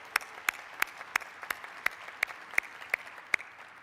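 Sparse, slow clapping at a vaccination site event at Ford Field, about ten evenly spaced claps, moderately near and fairly faint, with no voices over it.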